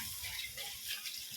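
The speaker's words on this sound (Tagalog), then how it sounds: "Buksan mo ulit ang gripo." A tap runs steadily into a basin while rice is washed, a soft continuous hiss of flowing water with faint splashing, close and alone.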